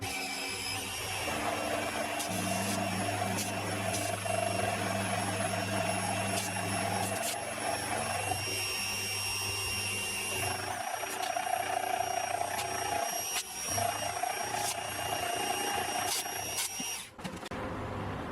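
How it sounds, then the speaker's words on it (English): A milling machine with a large rigid flycutter machines a slot in a workshop, giving a continuous steady whine and hum with a rhythmic low drone, unbroken for most of the stretch before a brief dip near the end. "finish machining up this slot and do this one"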